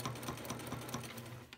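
A sewing machine doing free-motion quilting on a Christmas stocking hums and stitches continuously at close range, a steady rapid needle rhythm throughout.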